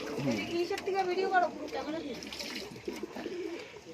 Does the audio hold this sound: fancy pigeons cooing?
yes